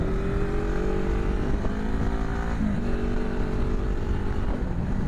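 A Suzuki 500 GSE motorcycle runs with an aftermarket exhaust, a steady loud engine drone that holds a fairly even pitch with slight shifts, heard close and continuous with no talking.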